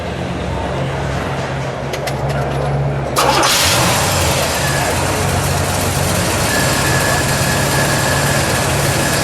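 A 1972 Buick GSX Stage 1 455 V8 with a 4-speed sits quietly at first, then fires up abruptly about three seconds in and settles into a steady, full-bodied idle close by.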